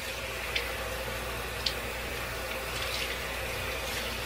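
Water runs steadily from a bathroom tap for rewetting the face during a skincare routine, a constant hiss with a couple of small clicks or drips, no voices.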